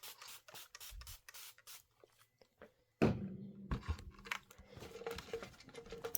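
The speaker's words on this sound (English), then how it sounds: "Okay, let's spray it." A spray bottle mists a sewn Christmas quilt project with several quick, faint hisses in a row, then closer rustling and handling noise.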